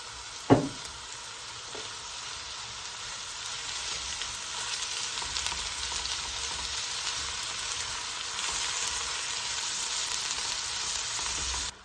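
Minced beef hitting a pan of onions already fried for about five minutes, a sharp clatter at the start followed by a loud, continuous sizzle with stirring scrapes that grows slightly louder toward the end.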